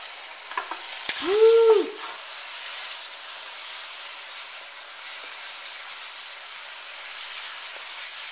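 Chicken stir fry hitting hot wok oil, a loud steady sizzle that starts with a burst and continues evenly, close up, after a brief excited exclamation from a person.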